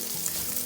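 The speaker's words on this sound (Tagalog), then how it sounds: "Haluin nyo lang po hanggang sa maluto yung onion." Chopped onion frying with garlic in a pan gives a brief, even sizzle at moderate loudness.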